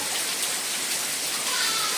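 Heavy rain pours down in Mithapur, a dense, steady hiss of falling water filling the whole two seconds.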